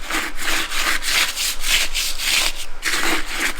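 Steady rubbing and scrubbing as soot is cleaned off a heating element, the strokes close and loud, repeating in an even back-and-forth rhythm with no talking.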